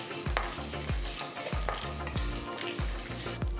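Mustard seeds and peanuts sizzle steadily in hot oil over a low flame while tempering, with seeds popping and splattering in repeated sharp bursts over a continuous frying hiss.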